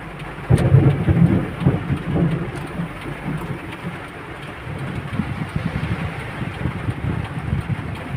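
Heavy rain pours steadily while deep rumbles of thunder roll through, loud and close, with no voices present, in Guiguinto.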